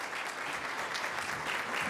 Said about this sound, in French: veuillez applaudir avec moi et souhaiter la bienvenue au Dr Robert Lozay